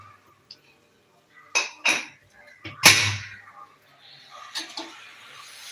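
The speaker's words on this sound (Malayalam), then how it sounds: "കുക്കർ ഒന്ന് അടച്ചിട്ട് നമുക്ക് വെയിറ്റും കൂടി എടുത്തിടാം" A pressure cooker lid is shut and its metal weight set on top in a home kitchen: a few sharp metallic clanks and clinks in quick bursts, close and moderately loud, with quiet gaps between.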